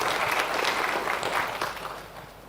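An audience at an annual general meeting applauds in a dense wash of clapping that holds steady, then gradually fades toward the end.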